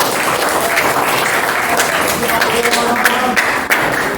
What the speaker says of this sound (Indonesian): Beri tepuk tangan untuk dia ya.